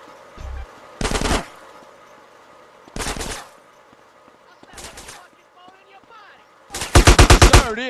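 Short bursts of automatic gunfire in Grand Theft Auto: San Andreas Definitive Edition, four separate loud volleys spaced by quiet gaps, the last a rapid rattling string of shots.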